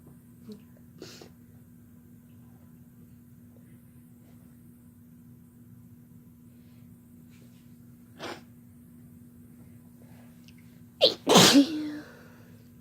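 A man and a woman sneeze, with a faint sneeze early on, another midway, and a loud, close double burst near the end, separated by long, quiet stretches with a low steady hum.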